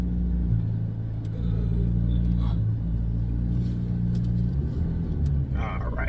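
A McLaren MP4-12C pulls out with a low, steady engine rumble heard from inside the car. Someone talks over it throughout.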